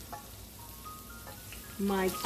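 Pandan and curry leaves go into hot oil for Sri Lankan tempered potatoes. A low sizzle runs under a faint voice, then surges into a louder crackle near the end as the leaves hit the pan.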